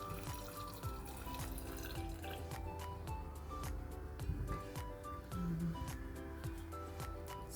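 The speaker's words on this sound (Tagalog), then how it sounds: "Lalagyan ko siya ng tubig." Water poured from a tap into a blender holding lemon, a quiet trickling and splashing stream with small drips, faint and continuous with no talking.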